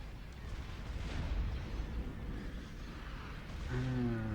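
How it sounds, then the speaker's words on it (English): Bombs going off in the Star Wars Empire at War strategy game, a dense continuous rumble of muffled explosions, moderately loud, with a brief tonal electronic effect near the end. "Bombs away."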